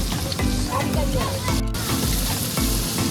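Prawns frying in a pan for a spicy kosha curry, with chillies nearby: a loud, steady sizzle with scraping stirs throughout, briefly dipping near the middle, no talking.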